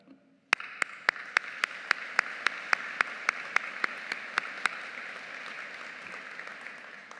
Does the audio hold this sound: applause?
yes